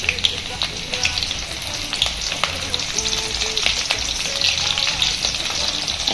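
Chopped garlic, chili and onion hitting hot oil for a Chinese-style chili chicken dish, a loud dense crackling sizzle with spatters and light stirring scrapes, continuous from start to end.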